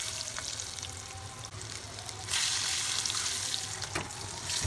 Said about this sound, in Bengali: চুলায় একটি কড়াই বসিয়ে রান্নার রেগুলার তেল দিয়ে সামান্য লবণ আর হলুদ গুঁড়া দিয়ে মুরগির সিদ্ধ ডিম দিয়ে দিব।